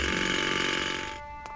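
A drill in the video game Grim Fandango Remastered runs with a loud, harsh, continuous grinding whine that cuts off abruptly near the end, leaving a brief faint click.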